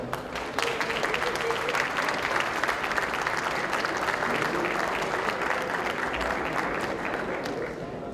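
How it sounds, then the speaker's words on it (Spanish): An audience at an urban design conference in Veracruz applauds a government undersecretary, a dense, steady clapping that carries evenly from start to finish with a faint crowd murmur beneath. "Un aplauso para él, por favor."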